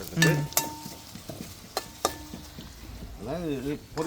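Ginger and curry leaves fry in a pan, with a soft sizzle and a few sharp stirring scrapes against the metal. A brief voice-like sound rises near the end.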